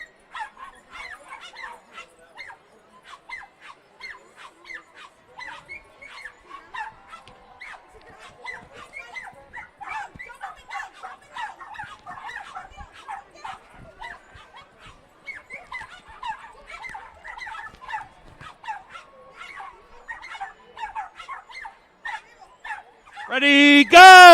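Small dachshunds yipping and barking in rapid, dense bursts ahead of a wiener dog race at a horse racetrack, a steady near chorus of high yelps throughout, with a louder sharp burst at the very end.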